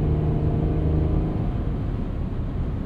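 A 2021 Ford Explorer ST SUV driven hard through corners, its engine droning steadily with deep low rumble and road roar close up, with no voices.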